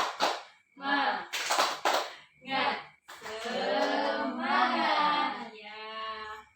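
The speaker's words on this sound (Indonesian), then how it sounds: "kita tepuk semangat dulu ya" A primary school class performs a rhythmic chant-and-clap routine, with bursts of hand claps mixed into children's and a teacher's voices, fairly close and moderately loud.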